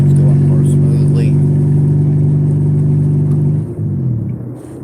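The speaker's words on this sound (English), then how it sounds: "I'm having to shift going uphill, and I either over rev, which makes it really super loud" A car engine working uphill while the driver shifts gears, a loud, close mid-pitched drone that holds steady for several seconds, then drops and wavers as revs fall during the shift.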